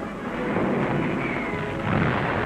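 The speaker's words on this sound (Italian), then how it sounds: "Un'esplosione. L'Atlas è distrutto." An Atlas rocket carrying a Mercury capsule explodes, heard as a loud, dense, sustained roar and rumble with no distinct onset, filling the whole stretch without talk.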